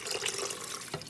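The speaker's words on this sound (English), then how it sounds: "I'm gonna add a little water to this because I want more broth" Water pours steadily into a pot of chicken zucchini-noodle soup, a continuous close splashing stream with no talk over it.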